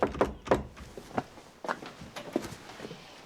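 A new back door in a country home opens and shuts with a series of close wooden thuds, clunks and knocks, irregularly spaced and fairly quiet.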